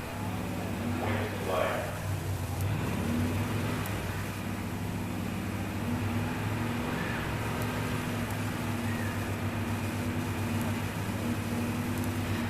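Two 1968 Pontiac GTO convertibles, a 400 automatic among them, rumble at a drag strip start line at a muscle car event, a steady low engine drone throughout with an announcer talking over it.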